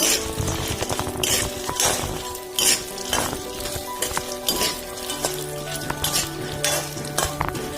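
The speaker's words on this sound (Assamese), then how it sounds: "ঘিউখিনি গৰম হোৱাৰ পিছত মাখনাখিনি দি দিছো আৰু এতিয়া গেছৰ ফ্লেমটো একেবাৰে লোত ৰাখি লৰাই থাকিব লাগিব।" Makhana (fox nuts) sizzle in hot ghee in a pan over a very low gas flame, stirred steadily with a spoon for kheer, giving a continuous close crackle broken by frequent metallic clinks against the pan.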